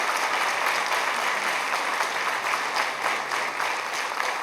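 An audience at a student vocal recital claps steadily and densely for several seconds, a full, even wash of applause with no voices on top.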